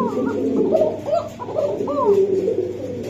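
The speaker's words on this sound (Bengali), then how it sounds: "দেন আপনার কোকা কবুতর ডাক রে ভাই, এইটা সেই ডাকে, সেই ডাকে, দুইটা ডাকে" Two caged pigeons sold as racers and high-flyers coo close by, giving repeated low rolling coos that overlap one another in a continuous run.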